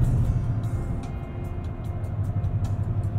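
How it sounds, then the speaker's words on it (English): Steady low road and tire rumble inside the cabin of a 2020 Toyota Tundra TRD Pro on the move, a constant muffled drone at moderate level with no talking. "Tire noise isn't bad."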